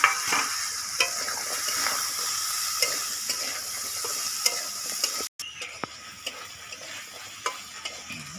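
Jackfruit seeds fry in a hot pan with a steady, bright sizzle, broken by scattered scraping and clicking as a spatula stirs them, and a brief pause partway through.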